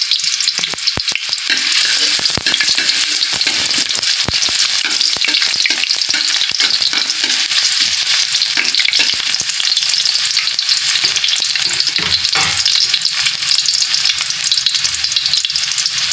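Ginger pieces fry in oil in a wok, giving a loud, steady, dense sizzle that runs without a break, with occasional scraping and clinks from stirring.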